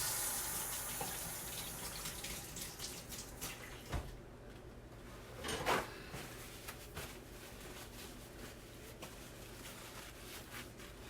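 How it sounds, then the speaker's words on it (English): Water runs from a kitchen tap while hands are washed, a continuous close hiss and splash with a few louder bursts as the hands move under the flow. "Wash my hands."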